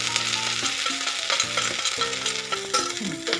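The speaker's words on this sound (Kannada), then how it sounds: "ಹಸಿಮೆಣಸಿನ್ಕಾಯಿ ಮತ್ತು ಕರಿಬೇವನ್ನು ಒಟ್ಟಿಗೆ ಸೇರಿಸ್ತಾ ಇದ್ದೀನಿ." Green chilies, curry leaves and mustard seeds crackle and sizzle in hot oil for a South Indian tempering, a loud, continuous close frying hiss with spoon-stirring scrapes throughout and no voices.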